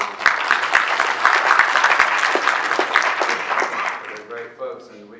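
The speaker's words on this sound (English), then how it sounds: "We need to give folks from Georgia Tech a round of applause" Audience at a 2013 healthcare summit applauds, a dense wash of clapping that fades toward the end as a speaker's voice returns.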